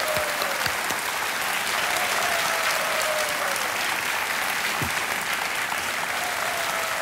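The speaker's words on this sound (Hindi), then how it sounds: "तालियां बजते रहे" Continuous, loud applause from a large studio audience on the Kaun Banega Crorepati game show, a steady wash of many hands clapping for the full stretch without speech.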